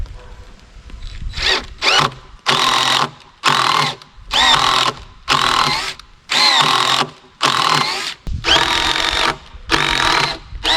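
A power drill drives a lag screw into wood in repeated bursts, each whirring, straining run lasting about a second with short gaps between, loud and close, ending in a few shorter pulses.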